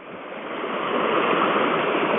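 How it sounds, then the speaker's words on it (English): Water discharging from a dam flows downstream near Huggins Lake, a constant loud rushing roar close by that swells slightly and holds steady throughout. "This is the water that's discharging out of the dam that's behind us upstream."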